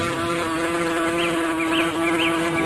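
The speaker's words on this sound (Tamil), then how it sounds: "ஓ வண்டு தொடையில் அமர்ந்து துளையிடுகிறதே" A buzzing beetle sound effect in a Tamil stage play drones continuously as a loud, steady insect-like hum with a wavering pitch that rises and falls.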